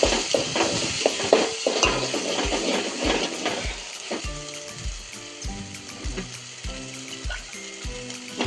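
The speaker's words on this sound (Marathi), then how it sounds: "छान भाजला बघा मसाला तेलामध्ये, सगळीकडून तेल सोडलं" Masala frying in oil in a pan for a spicy black-masala mutton curry, a loud continuous sizzle with regular rhythmic clinks of stirring, near and alone.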